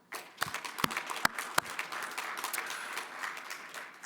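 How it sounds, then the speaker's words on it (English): Audience at a US-Africa business forum deal room breaks into applause, scattered sharp claps at first building into a dense, even round of clapping that carries on steadily. "I think that deserves a round of applause"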